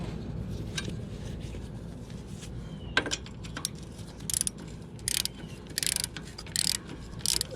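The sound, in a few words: ratchet wrench turning during a Harley Davidson oil change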